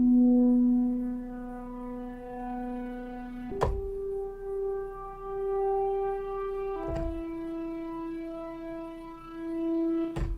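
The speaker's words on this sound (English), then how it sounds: "I've used the Arturia Jup-8 plugin to create a new sound I want to sample." A sustained synth pad from an Arturia Jup-8 plugin plays alone, rich and harmonic, shifting pitch at three points, each change marked by a brief soft thump.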